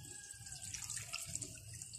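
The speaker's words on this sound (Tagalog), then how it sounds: "Lagyan natin siya ng konting tubig." Water pours from a tap into a cooking pot holding bisugo (threadfin bream) fish for pinangat, a steady close splashing stream running alone for two seconds.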